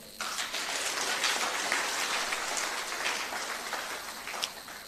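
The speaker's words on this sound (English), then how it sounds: "can we give guest of honor and all the speakers of this first session a warm round of applause?" A conference audience claps in a steady, even spread of applause from many hands, sustained and moderately distant, tapering slightly toward the end.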